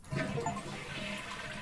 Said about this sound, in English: I got the achievement for flushing the toilet.